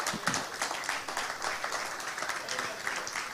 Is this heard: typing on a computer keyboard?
no